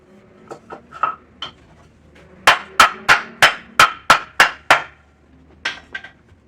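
Wooden boards for a reinforced wood shell around a 125 lb Cliff Carroll anvil are knocked into a frame, a run of eight sharp, evenly spaced hammer blows loud and close, with a few lighter taps before and after.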